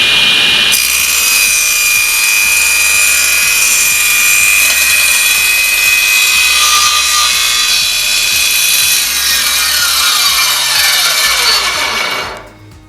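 A 3hp SIP cast iron table saw with a sliding carriage starts up, makes a straight cut with a loud, steady high whine, then spins down at the end.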